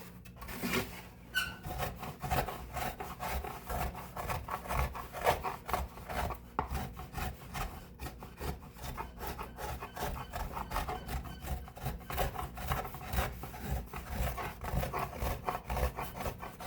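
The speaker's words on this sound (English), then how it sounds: "the gouge I just rubbed across the wood, and it levels it really nice." A woodcarving gouge rubbed back and forth across the wooden back plate of a fiddle, a continuous close scraping rasp with quick repeated strokes throughout.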